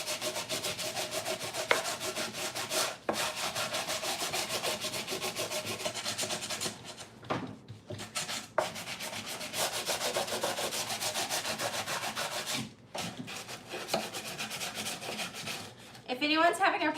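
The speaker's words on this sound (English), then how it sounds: "sanding this is bringing all of these kerf marks right back out" Hand sanding of rough salvaged lath slat wood for farmhouse crates, a steady close scraping rub with brief pauses between strokes, continuous and loud for most of the stretch.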